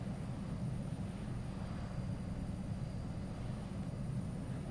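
Aerosoft Twin Otter turboprop in Microsoft Flight Simulator on approach with flaps extending, a steady low engine and propeller drone holding level throughout with a faint high tone above it and no talk.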